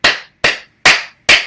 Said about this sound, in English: Don, I'm going to give you a standing ovation